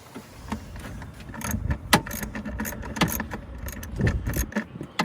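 A wrench works the black battery hold-down nut on a 2006 Volvo XC90, giving close, irregular metallic clinks and light rattles over a low background hum.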